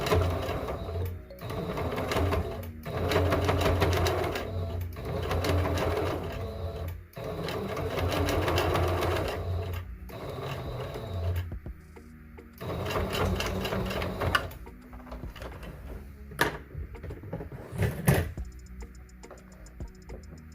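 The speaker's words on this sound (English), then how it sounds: "and then I'm going to sew it down" A sewing machine stitches down the seam of an African print fabric face mask, running in long steady whirring bursts with rapid needle ticking, close by, pausing briefly between runs before a few short stops and starts.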